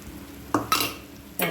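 A spoon scraping and knocking against a pan while coconut laddu mixture is stirred with ghee and cardamom powder, three short distinct strokes over a faint steady background.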